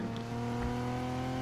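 A BMW Z4 engine in the racing video game Need for Speed Heat hums and revs steadily at a moderate level, with a continuous droning tone and no talk.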